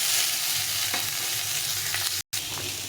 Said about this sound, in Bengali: মানে ভেজে নেবো একটু হালকা করে।